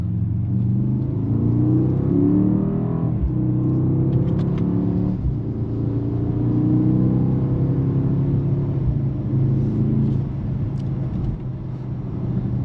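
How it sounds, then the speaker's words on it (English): A deep, steady V8 engine rumble from a 2025 Mercedes-AMG GLE 63 S SUV holds throughout, rising and falling slightly as it revs, loud and close with no voices. "Listen to the V8."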